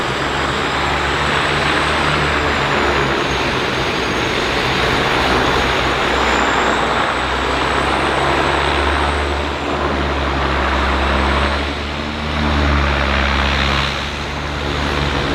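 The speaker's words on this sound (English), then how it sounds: "Look how they back that airplane up." A propeller airplane being backed up at Vancouver Harbour's floatplane airport gives a steady, loud, continuous engine drone with a low rumbling hum that runs the whole time and swells slightly near the end.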